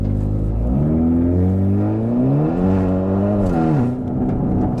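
Hyundai Veloster N with a full 3-inch exhaust, 6-inch high-flow catted downpipe and Stage 2 tune, revving loudly close up, the engine note climbing in repeated surges and dropping back between blips.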